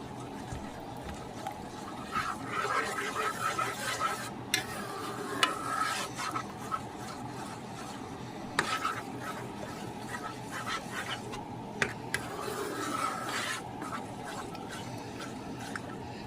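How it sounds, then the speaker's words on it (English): A spoon stirs a big pot of giant meatballs and spaghetti in sauce, making soft scraping and squelching sounds in uneven bursts. The sounds are close but fairly quiet, with brief pauses and faint clinks between strokes. "Stir this around."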